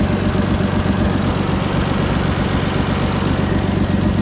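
A Farmall 460 tractor engine labours under load while cutting hay, a loud, close, steady low rumble with a rough, knocking pulse and no voices.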